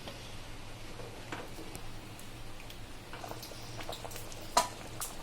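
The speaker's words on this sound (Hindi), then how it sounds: "हमारी कढ़ी अच्छे से उबल गई है" Soft, continuous bubbling and light popping from a pot of Sindhi curry with tamarind simmering on high flame, quiet and close, with occasional small clicks and one sharper tap near the end.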